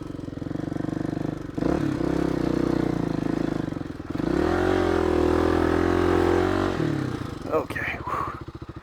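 A motorcycle engine revs hard and close on a big hill climb, its pitch rising and falling across several throttle pulls, with a brief dip between them. The engine runs loud and continuous throughout.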